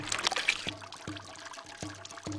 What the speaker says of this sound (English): They do it right as they separate the first water into a bucket.